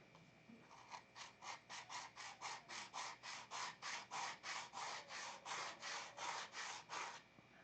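A wooden picket is sanded by hand with 80 grit sandpaper: about twenty steady, evenly spaced scraping strokes follow one another in a brisk rhythm, close and clear, with no talking.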